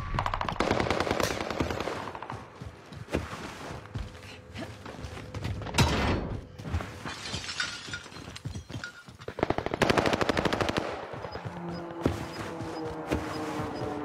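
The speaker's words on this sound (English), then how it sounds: "Wow, this gun got some recoil." A heavy-recoil gun in a shooting video game fires in long rapid automatic bursts with mechanical clatter, loud and close, broken by short pauses across the stretch.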